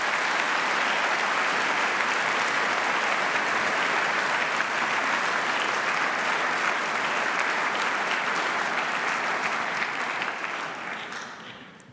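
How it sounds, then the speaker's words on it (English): A large audience at a university graduation ceremony applauds in a sustained, dense wash of clapping that holds steady for about ten seconds, then fades away. "join me in a round of applause to thank them for all they've done"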